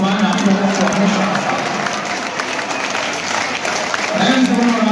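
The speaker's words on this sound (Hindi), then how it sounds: "हाथ ऊपर करो और एक बार प्रेम से ताली मार के हंसिए" Crowd of Hindu pilgrims on a Vrindavan–Barsana–Nandgaon–Govardhan trip clapping together with raised hands at a devotional gathering, a steady dense wash of applause with voices and chatter mixed in throughout.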